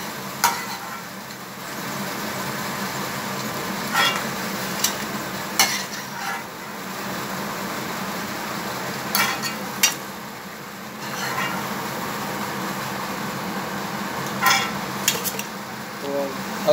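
Bottle gourd kofta balls deep frying in a pan of hot oil, a steady broad sizzle running throughout with occasional sharp clinks of a utensil against the pan.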